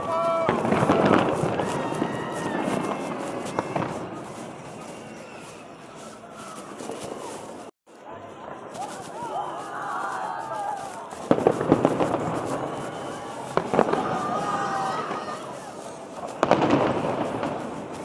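New Year fireworks at Burj Al Arab pop and crackle in repeated bursts, some sharp booms standing out against a crowd murmur and people talking nearby.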